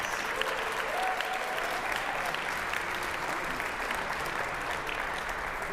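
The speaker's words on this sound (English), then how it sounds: "Let's give him one more big round of applause." Sustained applause from a concert audience for trombone players, a dense steady wash of clapping filling the hall at even loudness throughout, with no talk over it.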